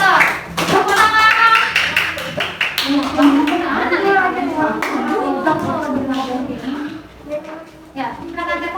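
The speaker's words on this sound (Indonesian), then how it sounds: "Tepuk tangan" Classroom applause rings out as a group of students is called to the front, a dense burst of many hands clapping that runs the full length under lively children's voices and the teacher talking.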